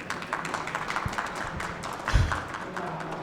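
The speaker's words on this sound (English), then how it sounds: "A round of applause, please." A conference audience claps in a steady, dense patter of hands that runs throughout, with one louder thump partway through.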